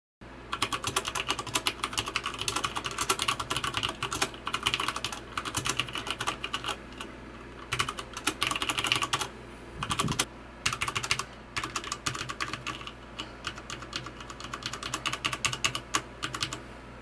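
Steady bursts of typing on a Magicforce 49-key mini mechanical keyboard fitted with Cherry MX Brown switches, with quick, close key clacks in irregular runs and short pauses between them and no voices.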